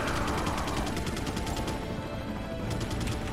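Pistol shots ring out in Resident Evil 4, dense and close, amid busy game combat noise with no voices.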